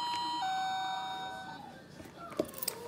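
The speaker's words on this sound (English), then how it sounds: "we didn't ring the doorbell, but I'm gonna let you guys hear it" An electronic doorbell chime rings out in a few sustained tones that fade, followed by faint clicks and soft handling noises.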